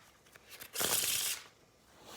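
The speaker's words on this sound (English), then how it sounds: "You could shuffle twice if you want to." Playing cards being shuffled in a card trick, a short crisp riffling burst of about half a second, near and fairly loud, following softer handling rustles with no talk.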